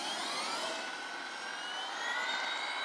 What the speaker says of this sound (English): Sounds like an airplane taking off. It is, it's like a turbine.